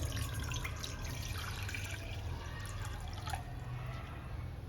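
Water poured into a kadai on a stove top while preparing crispy corn, heard as a steady liquid splashing and trickling over a low constant background hum, fairly faint and without talk.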